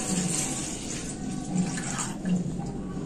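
Milk is poured into a bowl for an eggless semolina cake, a continuous splashing liquid stream close by with soft gurgles.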